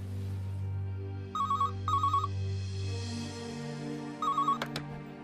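A telephone rings in short warbling double bursts, three rings in a row, over a low steady hum in a quiet room, with no one speaking.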